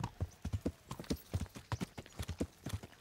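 Horse hoofbeats clip-clop at a steady riding rhythm in the medieval game Kingdom Come: Deliverance, close and clear, about a dozen paired strikes over a few seconds with no talk.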